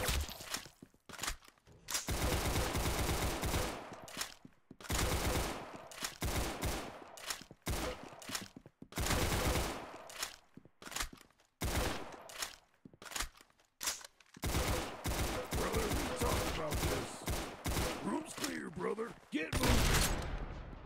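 Rapid bursts of game gunfire from Roblox Arsenal fill most of the stretch, with volleys cutting in and out in dense clusters alongside footsteps, while someone talks over the shooting.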